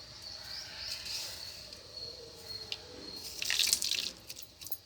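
In a kitchen, a tumbler of water is poured into a mixer jar, swirled to rinse, and tipped into a pot of idli sambar, with soft trickling that builds to a brief, louder splashing pour near the end.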